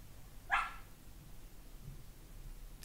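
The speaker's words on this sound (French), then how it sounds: "si vous entendez un petit chien qui gémit, c'est elle qui fait des cauchemars" A small dog whimpering in its sleep during a nightmare gives one brief, faint whine in an otherwise quiet room.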